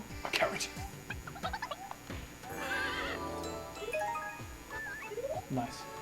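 A horse in the video game Miitopia neighs and whinnies several times, with clip-clopping hooves and short bursts of bright cries over a steady background, while people talk.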